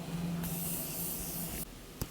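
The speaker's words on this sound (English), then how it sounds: "I'm gonna go over with a setting spray to just bring the whole look together." Makeup setting spray mists onto a face in one steady, close hiss of about a second, then cuts off, with a faint click after it.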